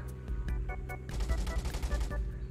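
Rapid automatic gunfire in Roblox War Tycoon aimed at a ground vehicle, quick repeated shots over a low engine drone, with clicking hit sounds layered throughout.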